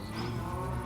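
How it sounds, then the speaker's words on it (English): Cattle mooing on a village farm inside a video game, a short, steady low moo held for under a second with no talk over it. "Dumbass cows."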